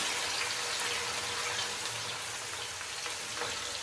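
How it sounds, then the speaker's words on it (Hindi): Chopped green chillies fry lightly in a pan for an egg and tomato bhurji, giving a soft, steady hiss and crackle that stays even and quiet throughout, with no talking. "सब्ज़ मिर्च को हल्का सा फ्राई करेंगे।"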